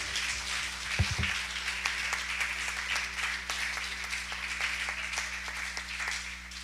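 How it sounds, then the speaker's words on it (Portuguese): A worship service congregation applauds the Lord, with steady, moderate clapping under a low sustained hum from the sound system. "Você pode aplaudir ao Senhor?"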